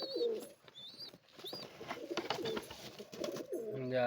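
Pigeons cooing close by among a gathered flock with chicks in their nests, repeated soft throaty coos mixed with chirps and rustling, fairly loud and clear with no talking.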